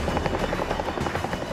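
A Chinook helicopter in flight gives a steady, rumbling rotor thump with a broad roar, continuous and fairly close.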